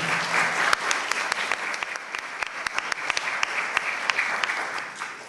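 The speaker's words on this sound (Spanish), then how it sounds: "Recibamos con un fuerte aplauso a la señora Franca Rey" Audience at a citizen debate final applauding a guest being introduced, a steady patter of many hands with distinct sharp individual claps standing out, moderately loud and sustained throughout.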